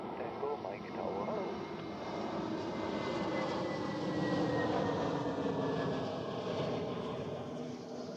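An airplane lands on runway 14 at Zurich Airport, its engine roar steady and broad throughout, rising slightly in the middle, with voices heard over it.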